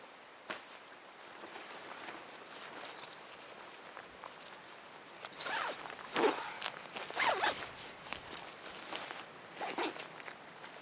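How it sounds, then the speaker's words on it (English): A bivy bag and mummy sleeping bags zipped up in a winter sleep system, with several close zipper pulls of varying length among nylon rustling and shifting, and no talk. "I zip up the bivy bag, which also, by the way, has a hood that cinches up"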